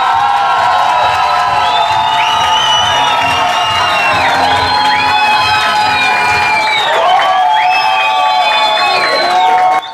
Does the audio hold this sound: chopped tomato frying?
no